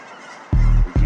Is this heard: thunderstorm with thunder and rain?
no